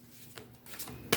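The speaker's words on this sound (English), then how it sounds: "We're going to shuffle 3 times." Brief soft rustling and a quick riffle of oracle cards being shuffled, ending in a sharp snap, close and fairly quiet.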